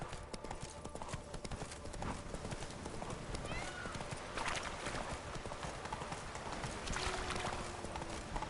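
A horse gallops in The Witcher 3 with a rapid, steady clip-clop of hooves. It carries on without a break over busy in-game ambience, with brief whinnies and voices in the mix.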